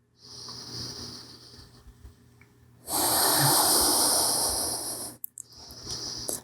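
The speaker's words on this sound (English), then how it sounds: "Keep breathing towards the right side of the body." Slow, audible breaths during a seated yoga stretch: a soft background hiss, then a loud, sustained exhale of about two seconds, a short pause, and another breath starting.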